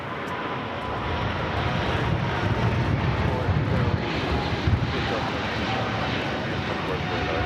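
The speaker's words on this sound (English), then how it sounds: "Eva Air Cargo 777 freighter now rolling down to 25 left." A Boeing 777 freighter rolls down the runway at LAX, its jet engines a loud, steady broadband roar that builds slightly and holds for several seconds under a little wind noise.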